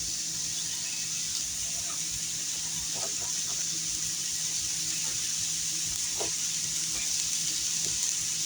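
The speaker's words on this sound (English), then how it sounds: "I put my mushrooms and onions on this griddle pan, which I had spritzed with a little bit of olive oil" Mushrooms and onions cook on a griddle pan spritzed with a little olive oil, making a soft, continuous sizzle with a few faint scattered clicks and ticks.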